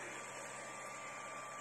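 An ERYONE Star One 3D printer runs with a steady, faint mechanical whir and hum that holds unbroken and alone, with no voices over it.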